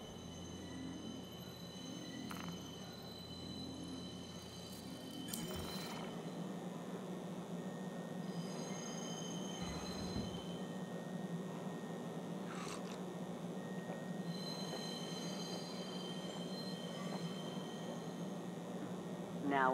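A steady rumble of a train arriving at a station in the video game Star Citizen, with occasional squeals and clunks, fairly faint and continuous, under quiet background sounds.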